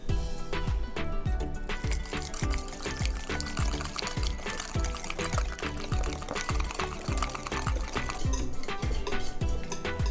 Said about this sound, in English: In a large mixing bowl, whisk all the marinade ingredients together.